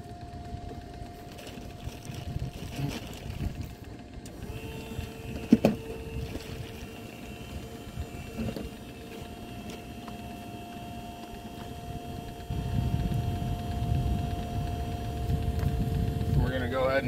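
A homemade outdoor waste oil burner runs with a steady low mechanical rumble and hum, growing louder and fuller near the end, with a couple of brief clanks partway through.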